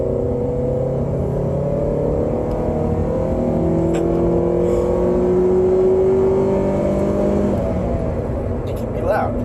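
A steady engine and exhaust drone from a 2005 Toyota Celica GT builds gradually as it accelerates in sport mode, heard from inside the car with a faint whine on top.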